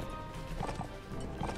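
Horses galloping in Mount and Blade: Warband, hooves clip-clopping in a fast, uneven rhythm amid battle noise, moderately close and fairly faint.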